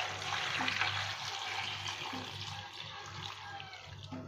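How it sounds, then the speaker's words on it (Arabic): Water poured from a tap into a pot of lemons for quick pickling, a steady close splashing stream running throughout with no talk. "هزوده ميه بقى كده"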